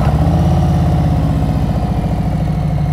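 Motorcycle engine running steadily with the throttle preloaded before the bike moves, a close, loud, even mid-to-low rumble with a pulsing beat throughout, no talking over it.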